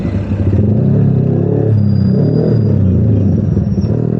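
A modified Bajaj Pulsar 220 motorcycle engine revs hard and close during a drag race, a loud continuous throbbing roar with rising and falling throttle, no voices over it.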